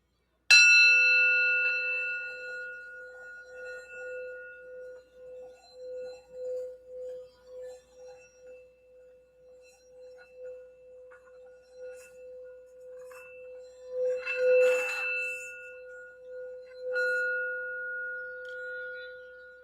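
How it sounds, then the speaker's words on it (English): A meditation sound bell is struck once and rings a long pure tone with shimmering overtones that slowly fades. It is then struck again twice near the end, each strike bright and close. "I just wanted to do the sound bell for just a moment to get us grounded and focused."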